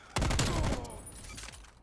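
A Stoner 63 light machine gun in Call of Duty: Cold War fires a sustained automatic burst that starts abruptly, then fades into ringing echoes and faint distant game sounds.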